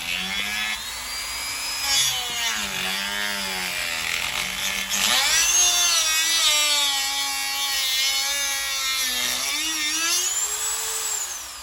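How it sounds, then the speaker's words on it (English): A high-pitched Dremel rotary tool whines steadily, its pitch rising and falling as it cuts out a seized bolt on a moped, loud and continuous with no talking. "we just cut this part out with the Dremel because the bolt was seized"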